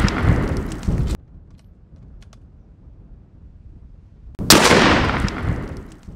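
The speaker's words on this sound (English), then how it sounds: "and I'm shooting off sticks." A rifle with open sights is fired from shooting sticks while hunting. Two loud, sharp shots land a few seconds apart, each followed by a long rolling echo, with quiet background between them.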